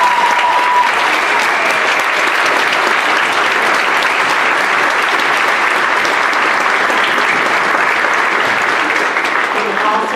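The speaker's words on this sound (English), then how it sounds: "Can we all please give our top 11 a round of applause?" Sustained, loud applause from a high school audience honoring senior scholarship recipients at an awards ceremony, steady dense clapping filling the whole stretch without a break.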